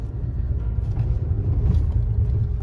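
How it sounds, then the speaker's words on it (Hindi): A Tata Tiago XZ+ hatchback pulls away in first gear, its engine giving a steady low rumble with slight fluctuations, close and fairly loud, with no voices. "गाड़ी को उठा के देखते हैं गाड़ी कैसे पिकअप देती है फर्स्ट गियर में"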